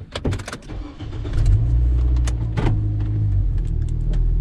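Inside a moving car, the engine rumbles low and steady with road noise and occasional knocks and rattles, and no one speaks.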